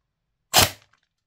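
A single sharp, close crack from a Silverback MDR-X airsoft rifle firing a 0.3 gram BB, with a short decaying tail, isolated in silence.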